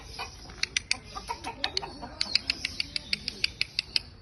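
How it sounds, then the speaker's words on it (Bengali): Chickens clucking in short, sharp bursts, a quick irregular run of a dozen or more close, fairly loud calls with no talk. "আমার মুরগি রে দেখছিস নি"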